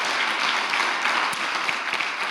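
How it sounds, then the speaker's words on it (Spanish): A church congregation bursts into dense, sustained applause, with many hands clapping together into a loud, even wash of sound that fills the room. "Dele un fuerte aplauso al Señor"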